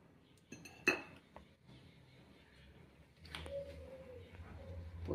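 A wok set down on a gas stove for cooking chowmein at home, with sharp metallic clinks and a clatter followed by a soft hiss as oil goes in, fairly faint and close.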